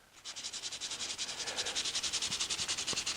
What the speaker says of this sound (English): I'm just going to run a little bit of sandpaper right over here.